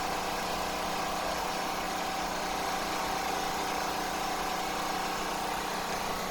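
Off-grid barn backup generator running steadily inside an unsoundproofed shed, heard close up as a constant, dense engine drone with no change in pitch or level throughout.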